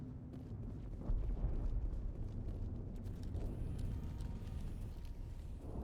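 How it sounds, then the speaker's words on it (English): A grenade goes off in the video game Mass Effect, a loud, low rumbling blast that swells suddenly and then rolls on as a sustained roar under the game's background noise. "Oh, I threw a grenade."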